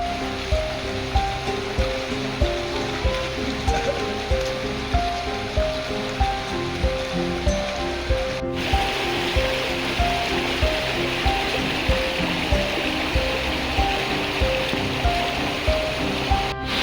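Small river stream flowing through dense forest jungle, a steady rushing wash of water, close and continuous, overlaid by a regular pulsing musical beat throughout.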